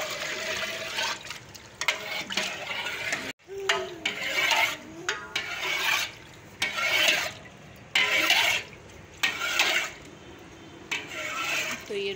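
Milk with Rooh Afza being stirred in a pot, with repeated swishing, sloshing strokes and occasional metallic scrapes in bursts, close by, while a person talks intermittently.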